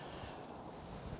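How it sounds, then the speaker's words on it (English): Wind gusting across an open airport on a day with a crosswind, a steady low rumbling buffet that roars against the microphone throughout, close and continuous with no voices. "It's quite windy here, bit of a crosswind today."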